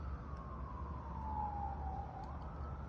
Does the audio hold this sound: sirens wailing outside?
yes